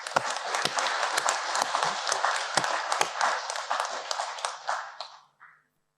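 Applause from fellows at an anniversary meeting and AGM: a room of people clapping steadily and fairly close, with a few sharper claps standing out, before it dies away near the end.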